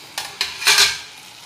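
Peas and potatoes being stirred and tossed in a hot pan for a dry vegetable dish, giving a few scraping clatters and a brief louder rustle of sizzling, close and with no talking.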